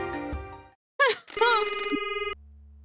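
A phone ringing during a call to Mr. Sato in the video game Promise Mascot Agency, with a short electronic ring tone and warbling game sound effects alongside.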